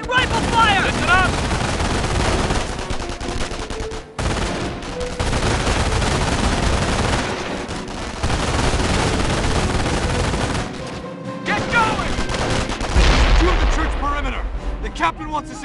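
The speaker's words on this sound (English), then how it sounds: "Whoa, taking rifle fire!" Rifle fire in the World War II strategy game Company of Heroes on Android, dense crackling bursts of gunfire with booming impacts, mixed with soldiers' shouted voices and shifting battlefield noise, briefly dropping out twice.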